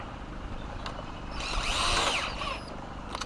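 A power drill drives fasteners into a coupling during a high tunnel build outdoors, with a rising whine that swells for about a second over steady background noise.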